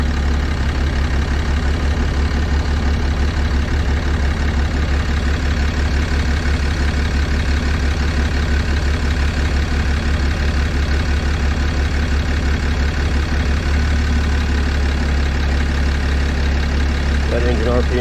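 A 6.7 Cummins diesel pickup engine with 859k miles and suspected bad injectors idles steadily during injector testing, a loud, continuous low rumble with a faint shift in tone near the end.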